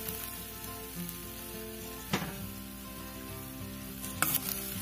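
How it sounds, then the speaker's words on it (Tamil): Chow chow and dal with softened onions sauté in oil for a Tamil kootu, sizzling softly and steadily, with a couple of sharper clatters from stirring. "இது ஒரு 2 நிமிஷம் நல்லா எண்ணெயில வதங்கட்டும்."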